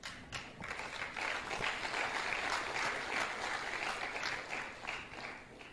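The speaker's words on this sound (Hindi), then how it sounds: "इस बात पे जो तालियां बजाई तो दिल खुश हो गया मेरा" Audience clapping at an Amway motivational seminar, a steady, fairly faint roar of many hands that swells slightly in the middle and carries on without a break.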